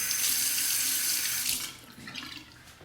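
A bathroom water tap runs for a quick rinse during a wet shave, a close steady hiss of flowing water that thins out and quiets after a couple of seconds.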